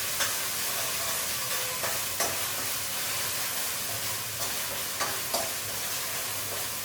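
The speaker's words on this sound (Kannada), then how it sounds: "ಇದಕ್ಕೆ ಫಸ್ಟು ಶುಂಠಿ ಬೆಳ್ಳುಳ್ಳಿ ಪೇಸ್ಟ್ ಒಂದು 2 ಸ್ಪೂನಷ್ಟು ಹಾಕೊಳ್ಳೋಣ. ಇದನ್ನು ಸ್ವಲ್ಪ ಫ್ರೈ ಮಾಡಿ." Ginger garlic paste sizzles in hot oil in a kadai, giving a steady close hiss with a few faint clinks of a spoon against the pan.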